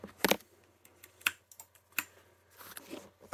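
Computer keyboard keys clack in a handful of separate presses at an uneven pace, close and sharp against a quiet room, with no talking.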